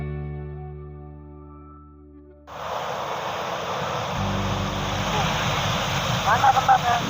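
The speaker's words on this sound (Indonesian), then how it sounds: "Ombaknya lagi gede banget apa emang biasanya gede" Big ocean waves break with a broad roaring wash at Jebring beach in Blitar, the surf rising suddenly after a quiet start and staying loud, with a few louder surges near the end.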